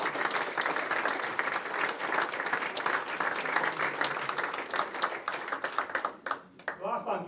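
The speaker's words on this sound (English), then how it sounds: "A big round of applause for them." A room full of people applauding at a schools evening, dense continuous clapping that thins out toward the end as individual claps become distinct.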